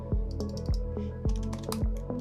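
Keys on a computer keyboard clack one after another while shortcut keys are pressed in Adobe Illustrator, giving several close, crisp strikes in an uneven rhythm with no speech.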